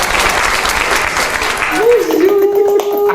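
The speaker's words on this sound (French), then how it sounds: "sous vos applaudissements et sous mes applaudissements" Studio audience applause welcoming a guest, steady dense clapping throughout, with a sustained tonal sound rising in beneath it toward the end.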